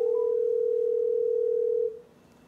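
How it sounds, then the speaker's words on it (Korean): A steady telephone dial tone hums alone at moderate loudness before a call connects, holding for nearly two seconds and then cutting off abruptly into a faint background. "전화 연결 한번 시도해볼까요?"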